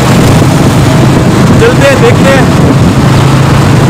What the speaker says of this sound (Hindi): रोड पे निकला हूँ, बाइक चला रहा हूँ